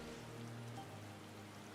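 Rain falls steadily in the Final Fantasy XIV video game as a dense, even hiss that stays constant and fairly faint.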